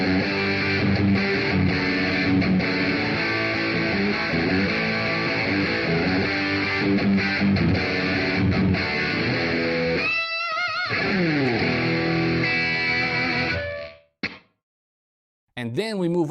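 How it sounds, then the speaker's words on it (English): Electric guitar run through a Headrush modeler with a booster and compressor into heavy distortion, playing a dense, saturated riff for about fourteen seconds before cutting off abruptly, followed by a brief clang, silence and one last struck chord. "added a small effects pedal, a booster, and a compressor to get a much heavier and more intense distortion"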